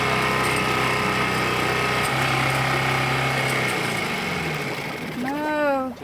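A repaired narrowboat engine runs at a steady, close, buzzing drone, then quiets near the end as a voice speaks briefly.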